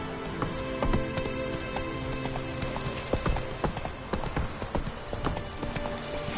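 Hooves of Geralt's horse Roach in The Witcher 3: Wild Hunt, a rhythmic clip-clop of galloping on hard ground, fairly close and continuous, with faint game ambience and a brief whinny.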